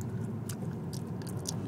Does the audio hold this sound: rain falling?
no